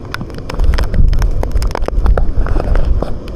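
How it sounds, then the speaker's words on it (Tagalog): Strong gusting wind from Typhoon Carina in Chiayi, Taiwan buffets the microphone with loud, rumbling roars and sharp intermittent whooshes, no voices heard. "Sumisipol pa sa lakas ng hangin"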